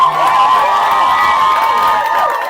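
A church congregation cheers and acclaims during a worship service, a loud, continuous crowd of shouting and whooping voices close by.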